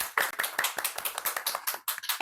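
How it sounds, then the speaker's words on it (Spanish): Applause welcoming a guest on a Christian testimony program, heard as a small group's distinct, uneven hand claps, crisp and fairly close, lasting about two seconds. "Así que recibamos con un fuerte aplauso a Caterine Rojas."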